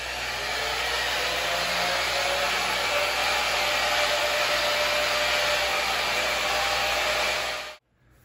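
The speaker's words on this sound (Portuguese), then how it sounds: "barulho de máquina, bora!" Polishing machine buffing a new motorcycle helmet, a loud steady whirring hum that runs unbroken for several seconds before cutting off abruptly near the end.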